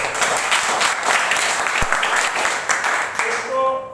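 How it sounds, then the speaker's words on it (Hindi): A room full of people at an Indian Independence Day company event applauds loudly and steadily, dense clapping that fades slightly near the end as a tone sounds. "तो उनके लिए एक जोरदार ताली"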